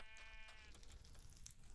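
A few short sheep bleats from Minecraft, game audio with a slightly buzzy, looping tone, heard in quick succession and then fading.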